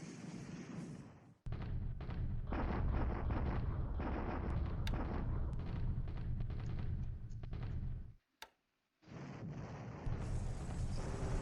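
A computer wargame set in the Pacific War plays an artillery bombardment: heavy booming barrages rumble on for several seconds, break off into a short silence, then start again loud and close.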